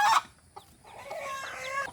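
Native chickens clucking close by, a short sharp squawk followed by a drawn-out, warbling cluck from a hen; no one speaks.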